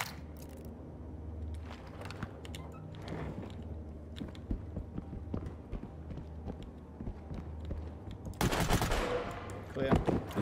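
Scattered gunshots in the tactical shooter game Ready or Not, faint, distant pops and short bursts spread over a quiet interior ambience, with a louder burst of noise near the end.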